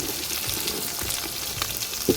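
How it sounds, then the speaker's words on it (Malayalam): Cubed capsicum, carrot and onion frying in a pan for fried rice, a moderate steady sizzle with soft crackles, stirring scrapes and a sharp knock at the end, no voices. "ഇതിലേക്ക് നമ്മൾ ക്യാപ്സിക്കം, ക്യാരറ്റും ഉള്ളിയും ക്യൂബാക്കിയിട്ടുള്ളത് ആഡ് ചെയ്ത് കൊടുക്കുക."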